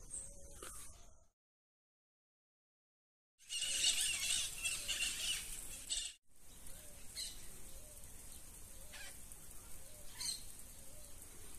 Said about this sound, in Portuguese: Muito periquito por aqui.